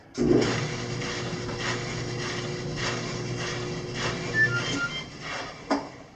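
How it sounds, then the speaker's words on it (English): A clothes dryer runs with a steady hum and soft rhythmic tumbling thumps, ending with a couple of louder knocks. "Yeah, so see if the dryer works."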